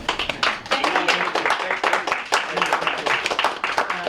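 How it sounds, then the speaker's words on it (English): An audience at a university budget crisis teach-in claps, a fairly close, uneven patter of hands that rises and dips in waves throughout. "Round of applause for Keith."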